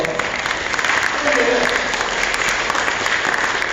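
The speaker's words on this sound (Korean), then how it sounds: "마틴 루터 킹 목사도 박수 한번 쳐주자고요" Listeners at a unification lecture in the New Malden Korean town in England clap for Martin Luther King, a full, continuous round of applause filling the room without a break.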